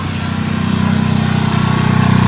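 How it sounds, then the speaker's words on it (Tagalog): A generator runs steadily close by at a busy work site, its small engine chugging with an even, rapid pulse and no voices over it. "At may generator."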